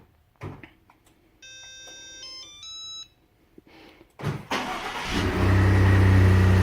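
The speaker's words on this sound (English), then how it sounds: "It starts right up." Ford F150 pickup started by remote start: a few short electronic chirps, then a brief crank as the engine catches and settles into a steady, loud, close idle rumble, with no talk.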